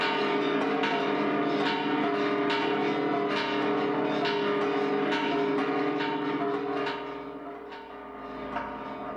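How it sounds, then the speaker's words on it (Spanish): Church bells peal during the Mexican Independence Grito ceremony, a dense, loud and continuous ringing of many overlapping strokes that eases slightly toward the end. "Y con este repicar de campanas"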